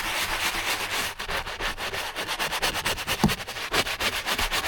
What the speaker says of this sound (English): I'm gonna use the same brush. Just gonna agitate it.